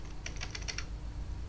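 Keystrokes on a computer keyboard entering a router configuration command, a quick irregular run of light clicks followed by a pause and one more tap, close and clear over a low steady hum.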